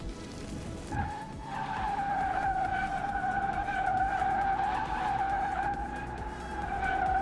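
Tires of an electric car skidding in Car Mechanic Simulator 2021, a sustained squeal with steady tonal whine and engine hum, loud and continuous with brief dips.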